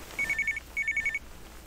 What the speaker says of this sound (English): Answer the phone, yeah, let's answer.